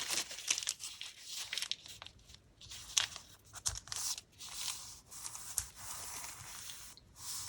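A paper shopping receipt is folded in half by hand, giving close, quiet crinkling and crisp rustles in irregular bursts with brief pauses between them.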